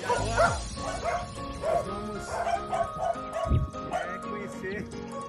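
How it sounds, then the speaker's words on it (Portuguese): Several puppies yip and bark in quick bursts from a kennel a little way off, with a person talking over them. "o canil ali cheio de cachorrinhos"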